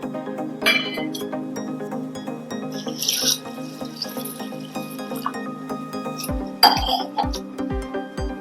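Rice and moong dal are washed with hot water in a bowl, with running water splashing steadily and clinks of the bowl, sharper bursts of water and dripping near the end, close and without talk.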